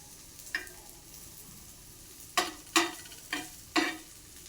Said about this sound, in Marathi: पण मी शक्यतो अशा थोड्याशा तेलावरती गरम करून घेणार आहे